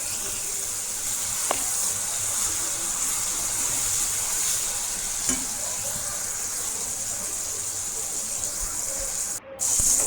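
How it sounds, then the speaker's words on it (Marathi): Chopped garlic fries in oil for a rustic village-style garlic chutney, making a steady, close hiss of sizzling with occasional stirring clicks that runs the whole time, with no one talking. "यामध्ये बारीक केलेलं लसूण टाकायचं. आता हे तेलात पूर्णपणे भाजून घ्यायचं."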